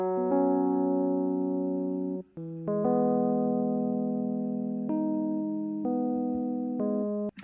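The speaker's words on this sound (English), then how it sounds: "we also wanted to add this lovely synth sound" A chilled synth part from the bridge of an indie song: sustained, harmonically rich chords hold loud and steady, shifting to new chords about every two seconds with brief dips between, no voices.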